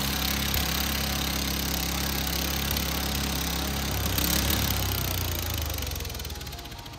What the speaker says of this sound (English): the engine itself, the engine is now infused with the plasmoid